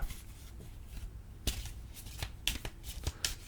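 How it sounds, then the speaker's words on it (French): Small FOCUS oracle cards shuffled by hand in a quiet room, giving soft papery riffles and several sharper slaps, close and fairly faint, with no talking. "Alors, on mélange."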